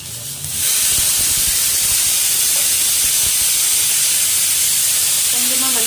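Green chillies hit hot coconut oil in a kadai already holding mustard seeds and chana dal, bursting into a loud, steady sizzle that starts abruptly and hisses on without a break.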